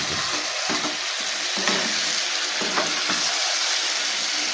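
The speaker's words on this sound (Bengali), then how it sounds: "আমি খানিক্ষণ একটু ভালো করে কষিয়ে নিই তারপর সামান্য পরিমাণ জল দিয়ে দেবো" Potatoes and peas sauté in oil in a pan for aloo dum, giving a steady broadband sizzle with soft, periodic stirring scrapes and no talking.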